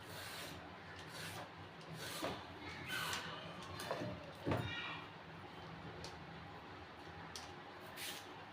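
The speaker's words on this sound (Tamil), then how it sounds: "தேவையான அளவுக்கு கேரட்டை எடுத்துக்கலாம் தோலை ரிமூவ் பண்ணிடலாம்" Carrots are peeled in a home kitchen with soft, close scraping strokes that come irregularly over a faint room hum.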